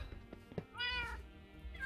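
A single short cat meow from Minecraft, heard when mining gold blocks, rises clearly over faint background clicks and shuffling, sounding close and somewhat synthetic, like a game sound effect.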